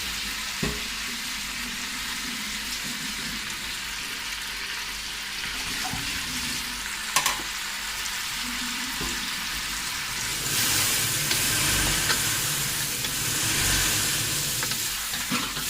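Tomatoes frying in a pan for chicken karahi gravy, a steady loud sizzle with occasional stirring clanks, growing hissier toward the end.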